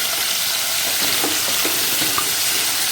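Salted chicken pieces sautéing in hot oil for a restaurant-style chicken gravy, giving a dense, continuous sizzle with a few soft stirring knocks, close and even, no speech.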